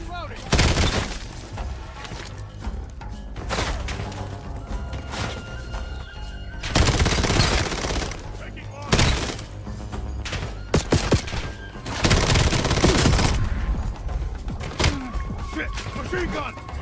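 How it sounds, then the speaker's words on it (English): Bursts of rapid machine-gun fire and explosive booms ring out in a Call of Duty Black Ops 7 firefight, loud and close, with dense clusters of shots separated by brief lulls and voices shouting in between. "Machine gun!"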